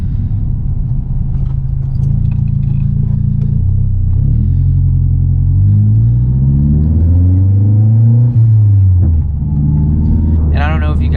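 Mazda Speed 3 driving on wet backroads, engine droning and rising through gears close by, with crackling exhaust pops bursting near the end.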